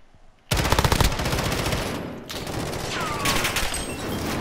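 An M13 rifle in Call of Duty Modern Warfare, a scout version fitted with a suppressor, grip and scope, suddenly opens up in sustained rapid automatic fire. The fast, even shots are close and loud, and a brief pause breaks the burst midway.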